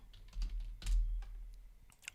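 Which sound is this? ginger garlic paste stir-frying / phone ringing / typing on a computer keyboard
typing on a computer keyboard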